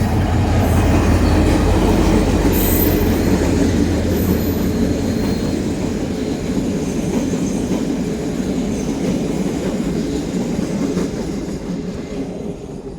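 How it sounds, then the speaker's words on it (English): Train passing by outdoors, a loud steady rumble with rhythmic wheel clatter that slowly fades toward the end, no voices. "there's a train that's going to go past now, so I'll just wait for that before I keep speaking"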